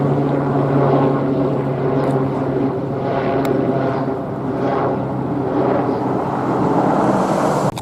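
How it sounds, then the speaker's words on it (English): Helicopter approaching over a tennis club, a steady loud rotor and engine drone that fills the whole stretch, with no talk over it. "got an approaching helicopter as I enter into the tennis club over here"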